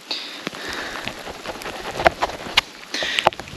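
Rain mixed with hail falls in the Mojave Desert at Joshua Tree National Park, a continuous outdoor patter with scattered sharp ticks of ice striking nearby surfaces.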